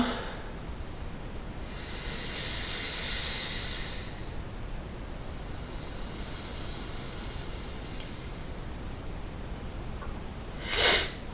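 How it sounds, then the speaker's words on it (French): Slow, deep breaths during a yoga session, two long airy exhalations drawn out over several seconds, then a sharper, brief breath near the end, close and alone. "Une profonde respiration."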